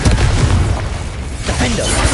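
Confringo explosion spell in the Hogwarts Legacy video game, a loud booming blast followed by rumbling debris, with a character's voice over it.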